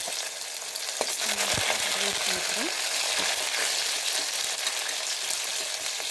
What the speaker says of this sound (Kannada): ಸ್ವಲ್ಪ ಫ್ರೈ ಮಾಡ್ಕೋಬೇಕು ಈರುಳ್ಳಿನ ನೀಟಾಗಿ